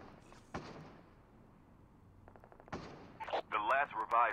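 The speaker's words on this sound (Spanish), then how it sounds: "¿Quién verga dispara por aquí?" Scattered gunshots from Call of Duty Mobile, a few sharp cracks and a short rapid burst heard at moderate distance, with a voice speaking over the end.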